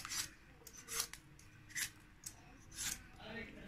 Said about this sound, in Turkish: Şöyle kabaklarımın kabuğunu soyacağım.